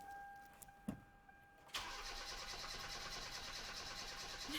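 A Hyundai Veloster Turbo engine cranks without catching, a steady whirring starter grind that kicks in abruptly after a short quiet stretch with faint ticks and a brief tone, then drones on evenly to the end.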